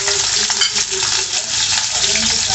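Garlic sizzling in hot oil in a frying pan while potato bhujia is cooked, a loud, steady, close hiss and crackle throughout with no talking.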